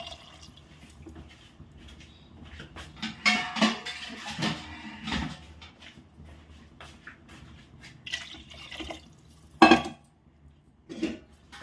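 A spoon scrapes and clanks against a cooking pot while chicken khichdi of rice and water is mixed, in scattered bursts with quiet gaps between.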